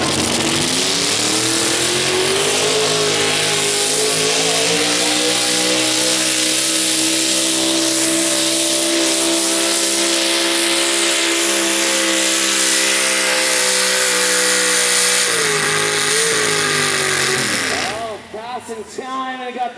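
Modified 4WD truck roaring down a pulling track at a night truck pull event: a loud, sustained engine blare with rising pitch, holding at full throttle before cutting off near the end.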